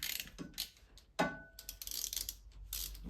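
Ratchet wrench clicking while undoing screws on a quad bike's oil filter cover during servicing, giving short bursts of mechanical clicks and metallic ticks at close range with no talk.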